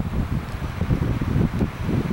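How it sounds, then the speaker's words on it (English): Steady mountaintop wind rumbles and buffets the microphone, a low continuous roar with no voices. "Always windy up here."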